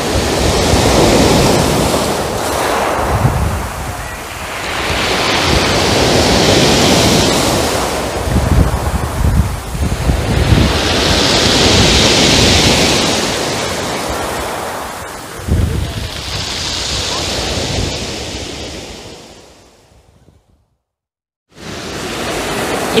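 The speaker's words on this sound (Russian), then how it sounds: "Сегодня море штормит." Stormy sea waves surge and crash on a pebble beach at Adler, with repeated loud swells rolling in every few seconds under gusting wind noise, dropping out briefly near the end.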